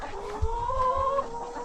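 A chicken clucks and gives a drawn-out, warbling call up close, with a soft thump near the start and no talking.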